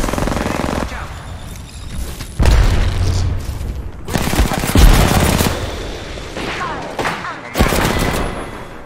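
Heavy, continuous video game gunfire with bursts of automatic shots and booming impacts, loud and dense throughout, with players talking over it.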